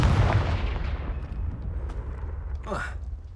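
A Confringo fire spell explodes in Hogwarts Legacy with a heavy, rumbling boom that decays over a few seconds, and a brief voice cuts in near the end.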